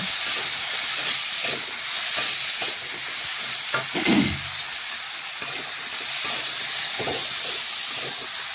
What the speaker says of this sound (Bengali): এই দেখুন এইভাবে বেশ কিছুক্ষণ নাড়াচাড়া করে কষিয়ে নিচ্ছি মশলা